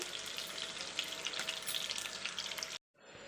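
Fish with curry leaves frying in oil on a beach, a dense crackling sizzle that holds steady, then cuts off abruptly near the end to a faint hiss.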